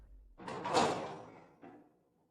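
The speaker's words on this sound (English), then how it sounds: "Zorro opens the door" A single door swings open with a soft, breathy whoosh that swells and fades over about two seconds, followed by a faint knock as it settles, in a quiet setting.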